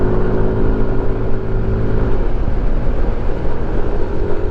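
A Yamaha NMAX 155 scooter cruises along a provincial road in Bulacan, its engine a loud, steady droning hum mixed with rushing wind noise throughout, no speech.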